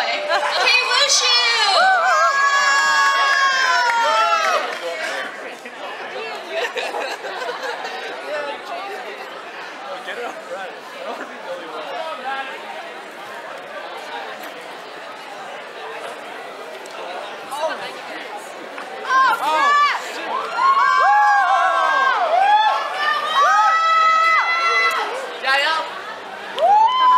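A night market crowd cheers and shouts for a wushu performance, loudest in bursts near the start and end, with steady chatter and voices filling the stretch between.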